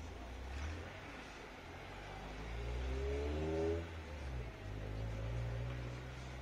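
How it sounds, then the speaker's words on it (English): Cars passing by near a porch in Los Angeles at night, a steady low engine rumble with one vehicle swelling and accelerating past midway before the traffic noise settles back to a continuous wash. "Ah, these fucking cars."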